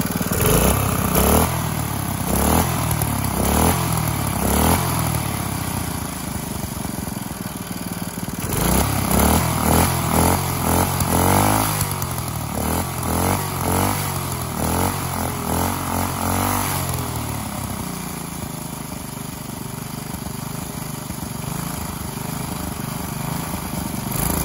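A vintage 3 HP Briggs & Stratton small engine runs steadily after a carburetor adjustment, loud and close, its rhythmic chugging rising and falling with a few throttle blips through the clip.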